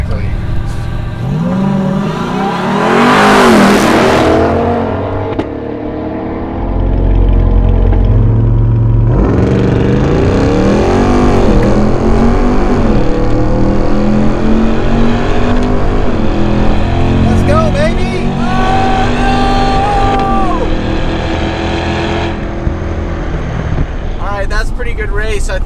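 A Ram TRX Hellcat pickup and a C8 Corvette drag race side by side, engines roaring and revving hard through long accelerating pulls with rising and falling pitch, loud and close, with people talking over the noise.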